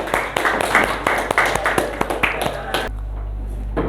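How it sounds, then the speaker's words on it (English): A classroom audience claps to welcome a Grade 9 student presenting a science topic at school, giving a dense burst of close hand claps for about three seconds before it stops abruptly, leaving a low hum. "let's welcome him with a great round of applause."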